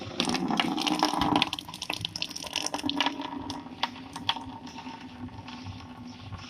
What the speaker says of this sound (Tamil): ஏற்கனவே பைப்பில் இருக்கிற லைனில் இருக்கிற தண்ணியை நம்ம முதல் வெளியே எடுத்துக்குவோம்